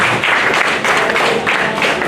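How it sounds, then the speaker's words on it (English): An audience at a community football league launch event breaks into applause: a short, dense burst of many hands clapping together, loud and steady throughout. "I think that deserves a round of applause."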